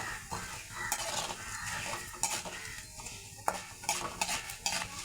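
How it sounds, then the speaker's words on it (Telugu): Urad dal fries in a pan with a soft sizzle, broken by irregular scraping and clinking strokes of a spoon against the metal as it is stirred close by. "బాగా పప్పు గోల్డ్ కలర్ వచ్చేదాకా వేపుకోవాలండి"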